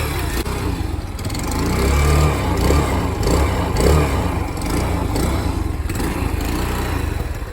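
A carbureted Grom clone motorcycle engine revs repeatedly, its loud, steady mid-range drone swelling and easing in uneven throttle blips close by with no talk over it.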